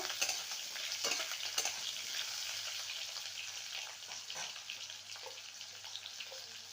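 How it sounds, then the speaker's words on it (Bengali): Two medium potatoes, diced small, fry in a pan with a steady hiss of sizzling oil and scattered light clicks of stirring, close and continuous for several seconds; no one speaks. "এখানে দুটো মিডিয়াম সাইজের আলুকে এরকম ডুমো টুমো করে কেটে নিয়েছি আলুটাকে ভালো করে ভেজে নেব"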